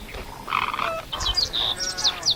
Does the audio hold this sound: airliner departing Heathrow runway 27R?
no